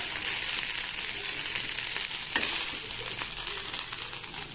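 Egg fried rice sizzling and frying in a pan, a steady close hiss of hot oil with crackling and a brief stirring scrape, continuous throughout with no talk.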